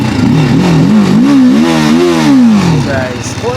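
A TVS Apache RTR 310 motorcycle exhaust revs up, its deep engine note climbing and falling in a loud, close sweep before settling back toward idle.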